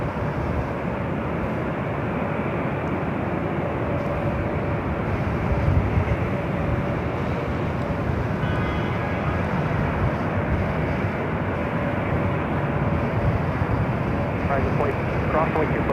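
A passenger jet airliner at LAX rumbles as a loud, steady broadband roar that holds without a break, with a faint tone riding over it and voices talking underneath.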